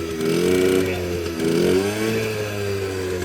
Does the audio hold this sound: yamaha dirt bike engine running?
yes